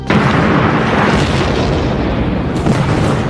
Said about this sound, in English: have blown up a few trucks of their own